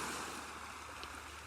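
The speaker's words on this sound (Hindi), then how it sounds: "समुद्र की लहरें" Ocean waves wash in a steady, soft broadband rush during a calm relaxation session, continuous and fairly quiet with no voices over it.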